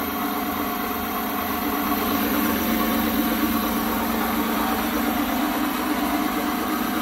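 A 3-phase alternator running under load, one phase supplying roughly 200 watts, gives a steady, unbroken mechanical drone and hum that stays constant throughout, with no talking.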